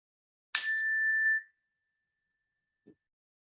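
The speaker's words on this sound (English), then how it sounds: "when you hear the sound of the bell" A meditation bell is struck once, giving a clear ringing tone that fades within about a second, followed by near silence.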